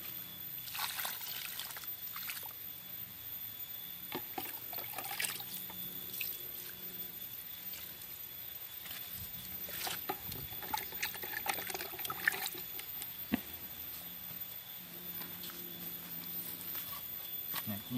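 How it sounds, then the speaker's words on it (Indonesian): Water trickles and splashes onto soil around a newly planted banana tree in uneven bursts, close and moderately quiet, with scattered drips and light rustling between pours. "Kita tambah lagi airnya."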